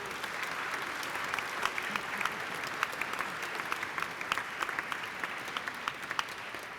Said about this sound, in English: Please give our 2013 3G honorees a round of applause.